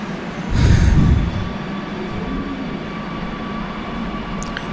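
A Kochi Metro train sits at MG Road station with a steady low rumble and hum, a brief louder whoosh early on, then a faint steady drone.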